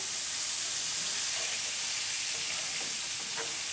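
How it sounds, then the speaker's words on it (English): Cube steak sizzling loudly and continuously in a hot pan as it is flipped with two spatulas, a dense close-up hiss with small crackles and scrapes, no talking. "I'm turning over my cube steak in the pan so you can see what it looks like"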